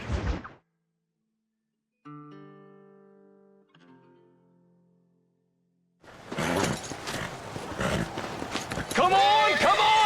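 Horses in the Red Dead Redemption video game, heard as a noisy, busy stretch of hoofbeats and movement after a few soft musical tones, with shouting voices mixed in over the commotion toward the end.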